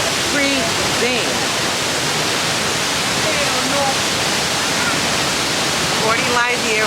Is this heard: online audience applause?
no